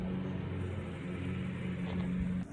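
Lawn mowers run in a suburban neighborhood, a steady droning engine hum holding throughout at moderate level, with no speech.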